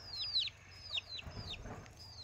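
Hens on a farm give short clucks and a few higher calls at intervals, fairly quiet and some distance off, with faint rustling in between and no one speaking.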